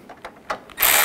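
A ratchet snugging the headlight mounting bracket bolts on a 1999-2007 Chevy Silverado 2500HD, a few quick close clicks followed by a louder burst of mechanical whirring at the end.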